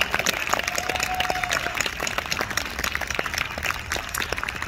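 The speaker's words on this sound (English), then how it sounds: "So one more round of applause for Miss Hersey." Audience applause fills a school jazz concert hall, a steady dense clapping wash that holds for the whole stretch with a brief held tone briefly audible underneath.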